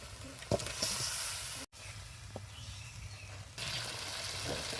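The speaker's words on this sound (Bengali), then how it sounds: "মশলা কষানো হয়ে গেছে, এখন দিয়ে দেবো বাইলে মাছ।" Baila fish fries in a cooked-down masala of ginger paste, cumin, coriander, turmeric and chili powder, with a steady soft sizzle, a brief break and a few utensil knocks.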